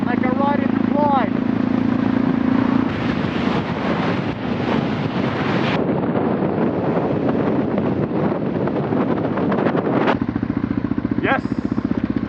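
Honda Transalp motorcycle with an Africa Twin fuel tank riding uphill, a steady engine drone under heavy wind buffeting.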